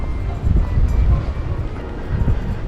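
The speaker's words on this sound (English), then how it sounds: "There's a train down there." A train rumbles past below a street in the port city of Brest, France, a mid-distance low rolling roar with uneven surges and some wind buffeting, heard without speech.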